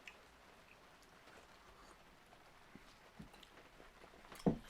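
Rainwater leaking through a boat's roof drips in sparse, faint single drops at irregular intervals over a quiet background, with one sharper splash near the end.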